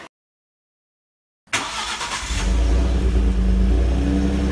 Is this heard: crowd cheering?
no